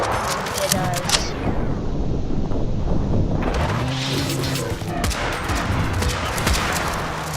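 Musket volleys in the game Totally Accurate Battle Simulator, loud crackling shots over a constant noisy battle din with gusty wind-like roar, continuous throughout.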